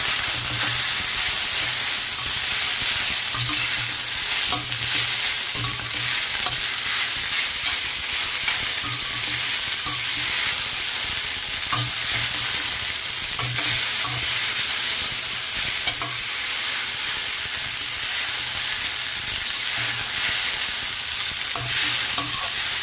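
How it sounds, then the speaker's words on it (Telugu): Strained noodles stir-fry in a hot pan, giving a loud, steady sizzle and hiss with repeated scraping stirs in an even rhythm throughout, close up and with no talking. "ఇప్పుడు దీంట్లో మనం స్ట్రైన్ చేసి పెట్టుకున్నటువంటి నూడిల్స్ని వేద్దాం."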